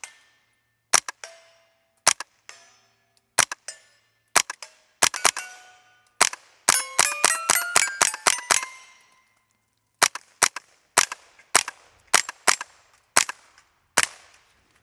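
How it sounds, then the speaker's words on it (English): A suppressed .22 Smith & Wesson M&P 15-22 Sport rifle fires a long string of sharp, snappy shots, some spaced out and others in fast bursts, each a crisp crack with a metallic ring and no talking. "Man, I love shooting suppressed 22s."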